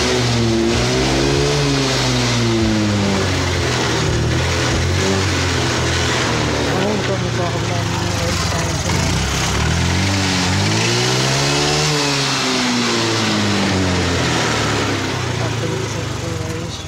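A scooter engine revs steadily and loudly up close, rising and falling in pitch a couple of times over a continuous rough drone, with no talk over it.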